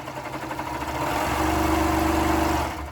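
A sewing machine stitching fabric, its motor humming steadily and rising into a fast, even whir before slowing toward the end.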